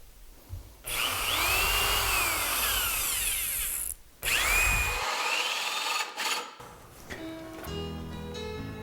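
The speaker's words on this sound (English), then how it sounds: "So we'll drill this 1/2 inch pilot hole" Power drill boring a half-inch pilot hole into a log for a log stair handrail, a loud sustained whine with a brief stop and restart, then winding down.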